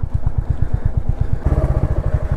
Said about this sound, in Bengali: এদিকে বাইক পার্ক করে দিই।